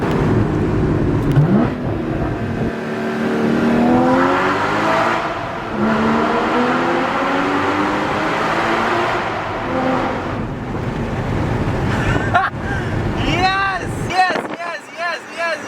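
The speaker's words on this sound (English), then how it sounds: "A tunnel with a stock exhaust is kind of like what a car kind of will sound like with an exhaust, just a little gnarlier" Porsche Cayman GT4 on its stock exhaust, revving inside a tunnel on a canyon drive: the engine climbs and falls through loud, echoing sweeps of pitch, with wind rush and some talking alongside.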